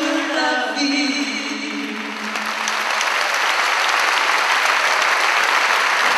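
An audience claps for performers in a hall, the applause swelling from under fading music into a dense, loud, continuous ovation that holds steady to the end.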